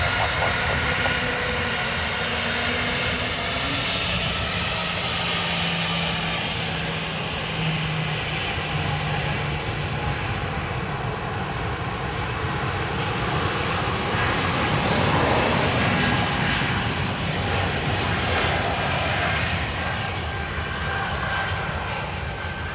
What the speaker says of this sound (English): it was hidden by the sound of a Ryanair